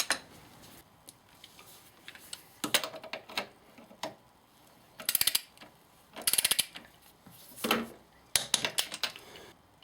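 Torque wrench clicking and ratcheting as bolts on the rear brake caliper of a Triumph Trophy motorcycle are tightened to 40, sharp metallic bursts in short clusters, close by and alone.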